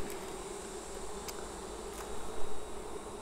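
Honeybees drone steadily inside a hive brood box packed with naturally drawn comb, a close, continuous buzzing hum with a few sharper bursts as individual bees pass near.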